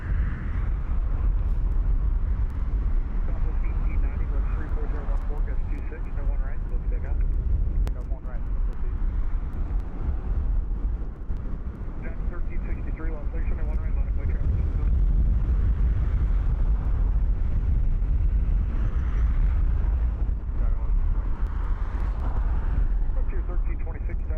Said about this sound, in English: And up next on the runway, the one-way is going to be Southwest Flight SWA 1890, heading over to SMF Sacramento. Boeing 737 Max Ocho.